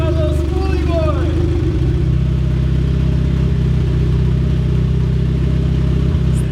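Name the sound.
turbocharged B18 engine in Civic hatch running after start-up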